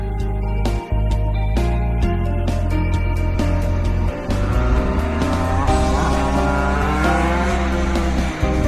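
A 50cc, 14 horsepower engine on a kid's Mini GP motorcycle runs steady and loud throughout, with harmonic tones that shift and rise and a few brief dips in level.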